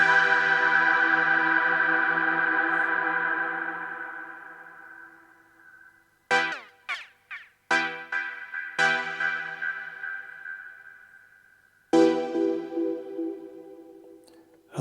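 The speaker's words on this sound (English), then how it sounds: "The reverb, can go almost infinite." A sustained tone from the Echo Cinematic reverb plugin hangs and slowly decays into near-infinite reverb, then several bursts of echoing effected sound follow, each ringing out and fading into a long tail.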